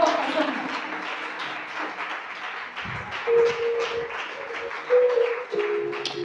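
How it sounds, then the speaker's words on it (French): Church congregation at an exhortation service applauding, a rough wash of clapping with voices and sustained tones running beneath, moderately loud with a couple of brief surges. "Acclame très fort."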